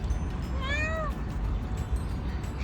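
A single short meow from a nearby cat in Armenia over a low background rumble.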